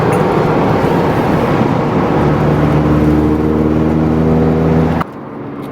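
An Audi Q8 SUV driving past on the road, a steady loud engine and tyre roar with rising harmonic tones as it passes close by, then cutting off abruptly near the end.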